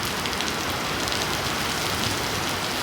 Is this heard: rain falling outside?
yes